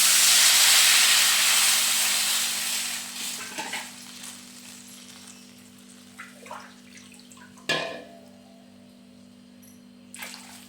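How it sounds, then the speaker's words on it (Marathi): Water is poured into a hot pan of lightly sautéed grated coconut, starting with a loud steamy hiss that fades into gentle bubbling, broken by a few sharp clinks and scrapes of a utensil. "आता आपल्याला ह्याच्यामध्ये पाणी घालून घ्यायचं आहे"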